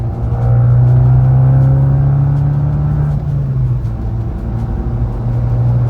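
Abarth 500 turbocharged engine pulling from 3,000 RPM in comfort mode, a loud steady low drone with a rising tone that eases off midway, then settles into a continuous rumble with no talk.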